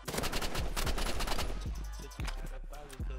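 Rapid bursts of gunfire from a sniper rifle in Marvel Rivals, with dense sharp cracks in quick succession, loud and close, thinning out into a few separate shots.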